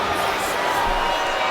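A wrestling arena crowd in the WWE 2K20 video game gives off a steady, loud murmur and roar that carries through the whole short stretch, with no single cheer standing out.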